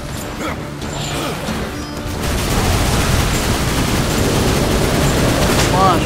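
Dense, continuous gunfire and combat clatter from the video game Darksiders 2 surge loudly after a quieter opening and then hold steady as a busy, crashing barrage.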